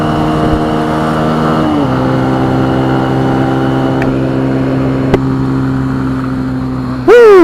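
A Benelli TNT 135 motorcycle engine drones steadily while riding to work in dense fog, a close, loud, even hum that briefly shifts pitch near the start, then a sudden loud surge at the very end.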